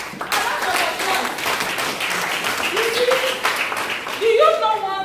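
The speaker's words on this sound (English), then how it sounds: "A round of applause. A round of applause." An audience at a community symposium on drug abuse prevention claps in a sustained round of applause, with voices speaking over it.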